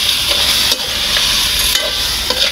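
Crab going into a pan of hot frying onion and garlic: a loud, dense sizzle right up close, with a few sharp scraping stirs over the brief stretch.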